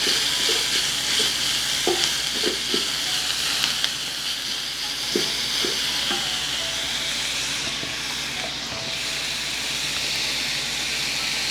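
Curry leaves and broken dried chillies tempering in hot oil, a loud, steady sizzle and hiss that runs throughout, with a few soft stirring knocks near the start and no talk.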